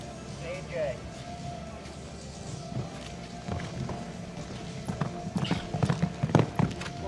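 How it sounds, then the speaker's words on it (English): Hoofbeats of a show jumping horse galloping toward a triple bar fence at the FEI 5* American Gold Cup, rhythmic clip-clop growing louder toward the end, under continuous commentary. "So he's really getting a good gallop up to the triple bar."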